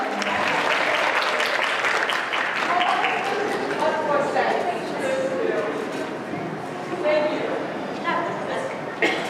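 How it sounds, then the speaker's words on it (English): Applause at an anime convention dating-game show, honoring contestants, rises and holds under crowd noise and voices talking over it, staying fairly loud throughout. "let's give another round of applause for our contestants"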